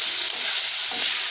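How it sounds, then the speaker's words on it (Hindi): Tomato masala for vegetable dum biryani fries in a pan with garam masala, giving a steady, close, loud sizzle with faint stirring and no talking. "इसे फ्राई करके थोड़ी सी देर से बंद कर देंगे ताकि यह ठंडा हो जाए"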